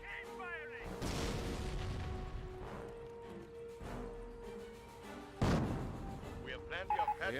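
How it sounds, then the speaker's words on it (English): Anti-tank gun firing in Company of Heroes, a World War II strategy game battle, with heavy booms at intervals amid steady battle noise while a voice talks over it. "AT gun firing away."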